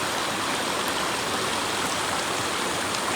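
Water runs through a small irrigation channel in a village field in Nepal, giving a steady, close, even rush and trickle that holds constant throughout with no talking.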